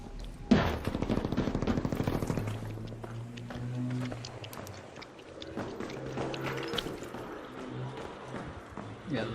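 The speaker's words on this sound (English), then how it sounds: "there's a lot of shooting happening" Rapid gunfire from the video game Arc Raiders, bursts of automatic shooting with loud cracks under continuous talk and game noise, steady and busy throughout.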